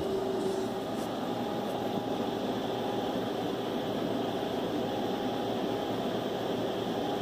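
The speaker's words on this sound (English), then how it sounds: "This is the solar charger in the bedroom here running this air conditioner." A solar-powered air conditioner runs in a bedroom, giving a steady, even whir of fan and airflow with a faint constant hum, unbroken and moderately loud throughout.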